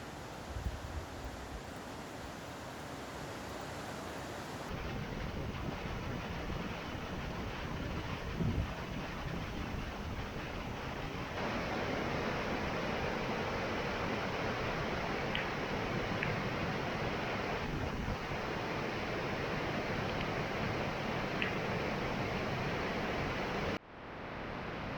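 Devils Punchbowl waterfall at Arthur's Pass pours in a massive, steady, close roar of rushing water that fills the scene without pause, then cuts out abruptly near the end.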